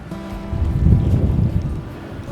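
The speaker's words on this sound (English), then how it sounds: "I don't know if you can hear it on the camera, but it's a proper head-on wind." Strong head-on wind at the coast in the Netherlands buffets the microphone in low, rumbling gusts that swell and ease over a couple of seconds, loud and close, with no speech.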